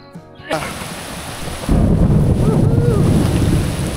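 A thunderstorm over flooded rice fields: heavy rain and wind roar into the mic, with a deep rumble of thunder swelling partway through and staying loud.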